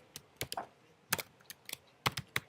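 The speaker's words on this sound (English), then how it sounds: "Don't try to keep up with my typing." Bursts of computer keyboard typing while writing JavaScript code, crisp close-up key clicks in irregular clusters with short pauses between runs, no voice.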